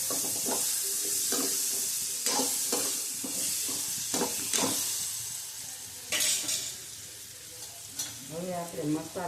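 Cumin, asafoetida, gram flour and banana frying in hot oil for a Gujarati banana curry, a steady sizzle broken by spoon scrapes and stirring clatter against the pan, fairly close.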